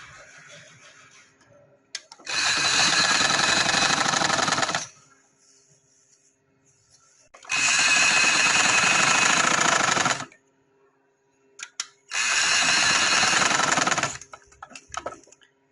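A sewing machine stitches a coat collar on khaddar fabric in three loud, steady bursts of fast, even whirring of a few seconds each, separated by short quiet pauses.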